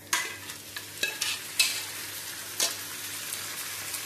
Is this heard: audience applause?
no